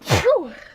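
A single close sneeze with a sharp breathy onset that trails off into a fading voiced tail.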